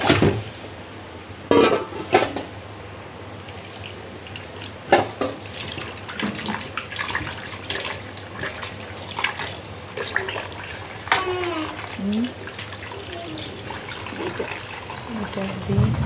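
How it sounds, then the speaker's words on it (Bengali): Tap water runs steadily while beef is rinsed in a home kitchen during preparation of a beef head curry, with occasional clinks of dishes and a few voices talking over it. "ওদিকে যে মাংস ধোয়া হয়ে গেছে, এটা আবার আর একটু ধুতে হবে, পানি দিয়ে"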